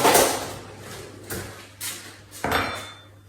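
Kitchen utensils are picked up, a knife and a small spoon among them, with several separate clattering knocks and a drawer-like slide, close and moderately loud, in an otherwise quiet room.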